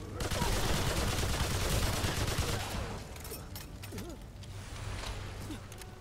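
Dense bursts of rapid gunfire from corrosive rounds in Remnant 2, loud and sustained at first, then thinning to scattered shots under game effects and a voice talking.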